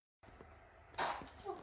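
An older newborn baby gives a single soft sneeze, close by in a quiet room during a photography session.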